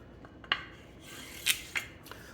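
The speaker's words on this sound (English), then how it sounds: "then I can finish taping to the opposite side and flip the tape over" Tape pressed and rubbed down inside the burrs of Skeletor climbing sticks, giving a few sharp crinkling, rasping bursts over a soft, steady hiss, close and fairly quiet.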